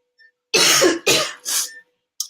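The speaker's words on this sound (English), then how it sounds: "Suddenly I have to cough." A woman coughs three times in quick succession, loud and close, with a brief faint throat sound before and a short trailing noise after, set in a quiet indoor space.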